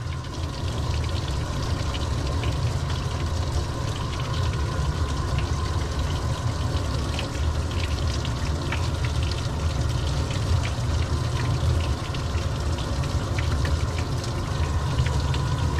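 Water runs steadily while rinsing a dog during a bath, a continuous loud spray-like rush holding the same level throughout with no voices.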